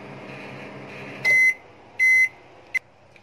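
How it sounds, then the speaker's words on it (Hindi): Microwave oven heating mixed dark and milk chocolate for 30 seconds: a low steady hum, then three sharp electronic beeps, two long and one short, signalling the end of the cycle. "इसको मैं माइक्रोवेव करूंगी 30 सेकेंड।"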